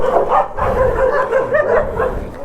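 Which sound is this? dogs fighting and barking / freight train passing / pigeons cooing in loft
dogs fighting and barking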